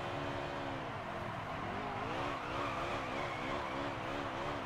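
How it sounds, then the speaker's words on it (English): Tires squeal through a smoky burnout in the NASCAR Heat 3 racing game on PC, a continuous loud screech over a droning stock-car engine with wavering pitch and no pauses. "Let's do a burnout."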